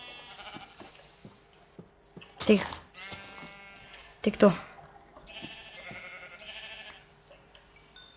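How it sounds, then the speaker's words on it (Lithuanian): Sheep in the video game Minecraft bleat twice, with short wavering cries a couple of seconds apart, over game background noise and a person talking. "Mes matome avį."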